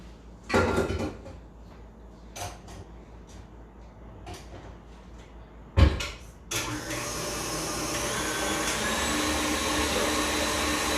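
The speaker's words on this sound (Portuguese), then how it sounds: "vocês estão me escutando bem ou a batedeira está atrapalhando?" An electric stand mixer whips meringue, a steady loud whirring that runs continuously from about six seconds on, after a few knocks and clatters of setting it up.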